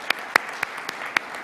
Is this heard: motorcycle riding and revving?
no